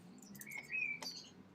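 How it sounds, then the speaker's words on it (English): Birds chirp outdoors where blackbirds and pigeons are around, giving a few close, clear tweets and a brief whistled call over a soft low background hum, with no talk. "There's a lot of like blackbirds around, actually, and you hear pigeons occasionally."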